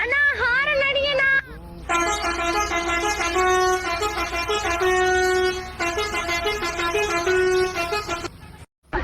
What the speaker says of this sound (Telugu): అన్నా హారన్ అడిగేనా